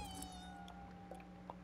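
In the video game Ghostwire: Tokyo, a cat gives a short, faint meow over a steady low background hum from the game.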